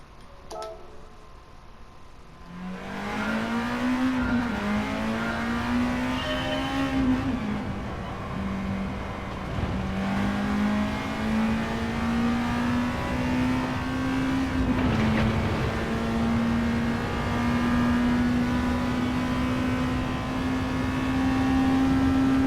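Car engine in Gran Turismo 7 played on a controller, a steady loud drone that climbs and shifts pitch through gear changes while driving, rising again after a brief dip near the middle, continuous throughout with no talk.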